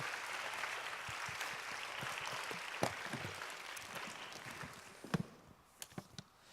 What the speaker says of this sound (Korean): 힘차게 박수를 한번 모시겠습니다